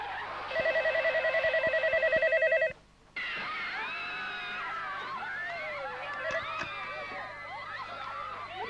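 An old-style telephone bell rings loudly in repeated bursts for about two seconds, then stops; afterward a busy indoor scene with voices and chatter continues in the background.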